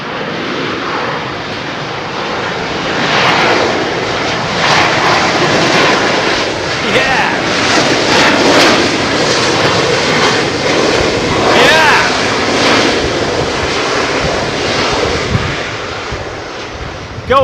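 A CFM-engined airliner comes in to land in a crosswind at Heathrow, its steady jet roar rising and lingering for a long stretch while someone talks over it.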